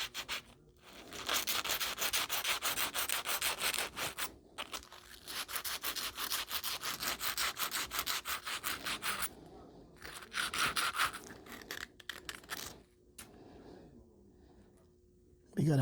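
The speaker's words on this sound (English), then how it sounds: "Next step is the sandpaper." Sandpaper is rubbed over copper pipe in repeated close scraping strokes, running in steady bursts with brief pauses between them.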